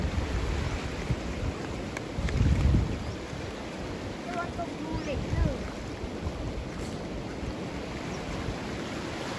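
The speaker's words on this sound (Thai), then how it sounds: "น้ำก็จะไหลมารวมกันตรงนี้น้ำก็จะแรง" Strong water flow churning and swirling at a sluice gate on the Takhong River weir, a broad rushing roar mixed with wind buffeting the mic, while someone talks over it throughout.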